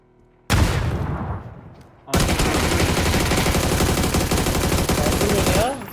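Dense, loud automatic gunfire fills a firefight in the battle royale game PUBG, a short burst first, then nearly continuous rapid shots until the end, with a voice faintly present.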